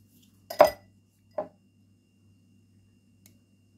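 Two sharp clinks of a utensil against a bowl while honey, cornstarch, milk and aloe vera gel are mixed: a bright tap followed a moment later by a softer one, then near silence with a faint hum.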